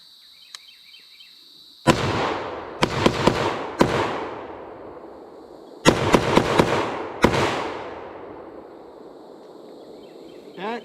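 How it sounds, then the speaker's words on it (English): A SIG SG751 SOCOM .308 rifle fires at an outdoor range: two strings of sharp, loud shots, each volley of four or five rapid reports with echoing tails, separated by a pause. "That is the softest shooting 308 I have ever shot in my life"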